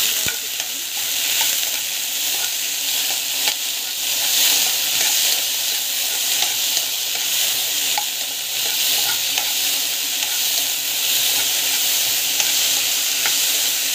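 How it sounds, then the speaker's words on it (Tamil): Okra sautéing in oil with salt gives a loud, continuous close sizzle, with soft stirring scrapes running underneath throughout and no voices. "ஆயில் போட்டுட்டு நல்லா வந்து கொஞ்ச நேரம் வந்து வதக்கணும்"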